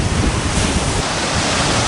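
Sea of Japan surf and strong wind off Russky Island near Vladivostok, a steady close roar of breaking waves with buffeting wind noise on the microphone, no voices.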